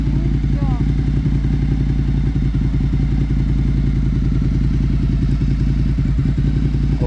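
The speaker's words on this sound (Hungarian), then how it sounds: "Itt fog elindulni a motor." Motorcycle engine held near the clutch friction point during a first riding lesson, a steady low rhythmic chugging throughout with occasional thumps and clatter, close and fairly loud.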